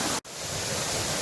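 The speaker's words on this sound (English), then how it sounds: "I'm going to get through the other side of this waterfall and this stream here" A waterfall and stream on a hiking trail rush with a steady, broad hiss, interrupted by a brief dip and then resuming at full strength, with no voices.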